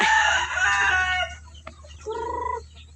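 A rooster crows loudly nearby, followed by a hen's short clucking call, with quiet background between them.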